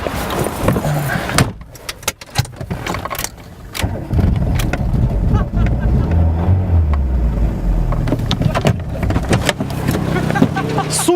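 A car with a dead battery rolls downhill as someone tries to push-start it, with rumbling engine and mechanical noise, clunks and rattles throughout, turning into a louder sustained engine-like drone in the second half.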